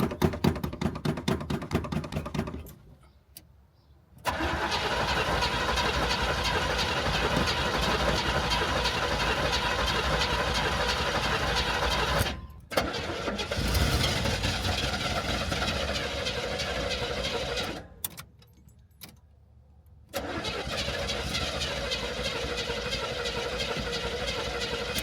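A car engine runs with a stuck throttle, holding a loud steady roar that cuts out briefly twice before resuming, heard close with no talk.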